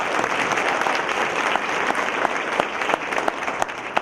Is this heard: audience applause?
yes